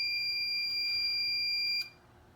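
A fire alarm panel emits a steady, piercing electronic tone that cuts off abruptly after about two seconds as the alarms are reset, leaving near silence.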